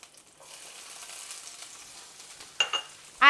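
Ground beef fries in a pan with a faint, steady sizzle while a square spatula chops it up, giving a couple of sharp scraping jabs and a louder burst at the end.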